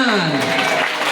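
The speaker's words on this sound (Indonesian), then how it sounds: "Tepuk tangan kasih mah tepuk tangan." An audience claps together at a lively Sundanese sermon, a loud, dense burst of applause with a voice sounding over it.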